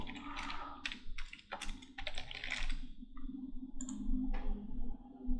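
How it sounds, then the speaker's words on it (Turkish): Fingers tap out a search on a computer keyboard, a close, quick run of clicking keystrokes in short bursts with brief pauses, and no voice. "Arama motoru Google'a yazıyorum."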